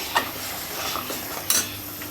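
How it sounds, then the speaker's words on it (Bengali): Masala sautéing in a pot as a spoon stirs it, with two clear metallic clinks against the pot and a soft, steady sizzle underneath. "মাঝে মাঝে নেড়ে যাব মশলাটা আগে কষানো হোক"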